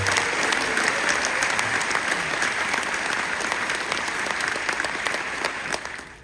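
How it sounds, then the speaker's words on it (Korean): Sustained audience applause at a Fire Day ceremony, a dense, even patter of many hands that stays loud before tapering off at the close. "여러분 격려의 박수 부탁드립니다."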